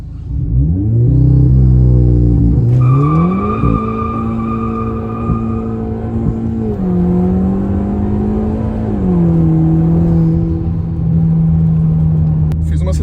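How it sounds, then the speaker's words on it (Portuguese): A Volkswagen with a DSG gearbox launches hard from a standstill, its engine droning loud and close and rising in pitch with brief dips at each gear change. "Então eu vou acelerar, deixar ele carregar a turbina e tirar o pé do freio."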